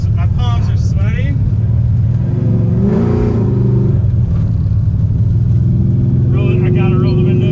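A 1968 Ford Mustang Fastback's engine rumbles and revs steadily from inside the car after a shift into third gear, while people talk loudly over it throughout.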